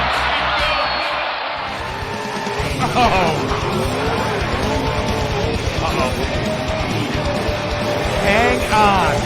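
Monster truck with a broken rear end revving hard on the throttle, engine roaring and tires skidding and squealing, with excited commentary voices and a crowd over it throughout.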